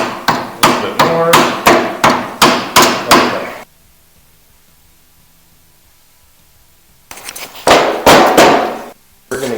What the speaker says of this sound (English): We're going to give it just a little bit more hammer.